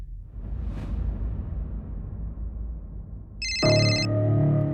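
A telephone ringtone starts partway through and rings on steadily and loudly during an unanswered call, after a soft whoosh and low rumble.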